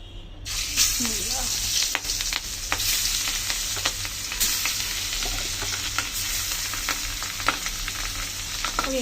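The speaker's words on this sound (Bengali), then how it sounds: "এই যে এখন মাছগুলো ভেজে নেব, কড়াই তেল দিয়েছি, মাছগুলো ভালো করে ভেজে নেব।" Pieces of boal fish frying in hot oil in a wok, a loud, dense, continuous sizzle and spatter with scattered pops throughout, no talk.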